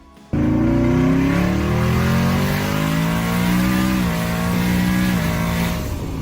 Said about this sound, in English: the deep, confident sound of a naturally aspirated V8